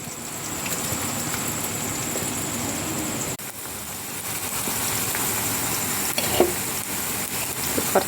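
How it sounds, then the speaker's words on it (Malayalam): Jackfruit chips sizzle steadily in hot coconut oil in a Kerala kitchen, a loud continuous hiss with occasional stirring clinks and no voices. "ചക്ക വറുക്കുന്ന വീഡിയോ ആണ്"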